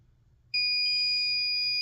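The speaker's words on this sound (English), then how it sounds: "it'll beep on the actual breaker, which is that one" A circuit breaker finder gives a sharp, high-pitched electronic beep that starts abruptly after a short pause and holds steadily, loud and close, when placed on the breaker matching an outlet.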